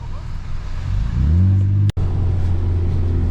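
Manual Volkswagen Golf 7 R driving in snow, its engine rising in a close, loud rev with a brief cut around the middle before the steady drone resumes.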